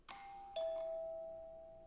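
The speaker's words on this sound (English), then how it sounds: "The doorbell rang." A two-tone doorbell chime rings once as a clear ding-dong, ringing out and slowly fading, heard alone with no talk as a sound effect in an audio drama.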